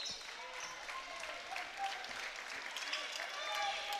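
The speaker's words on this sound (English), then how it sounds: "So round of applause as Jake Delangelo checks out of this game here." A gym crowd applauds at a high school boys basketball game, Spring-Ford versus Boyertown on Senior Night, as a player checks out, giving steady distant clapping and crowd murmur throughout.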